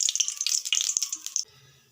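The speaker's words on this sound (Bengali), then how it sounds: "কড়াইটা গরম হয়ে গেছে, এবার আমি তেল দিয়ে দেব।" Oil is poured into a hot kadai before katla fish is fried, making a brief splashy, crackling trickle for about a second and a half before going quiet.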